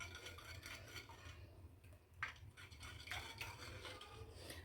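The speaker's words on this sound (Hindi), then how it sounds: "इसे हम दूध में मिक्स कर देंगे।" Homemade curd starter being stirred into milk with a spoon in a pot, giving soft, continuous scraping and clinking against the vessel, close and fairly quiet, with no talking.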